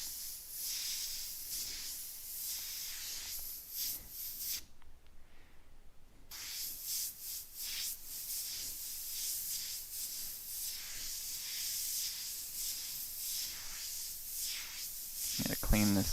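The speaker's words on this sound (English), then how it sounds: "I'm going to clean this airbrush." Airbrush being cleaned, blasting a continuous hissing spray of air, loud and close, with a short pause midway before the hiss resumes and carries on steadily.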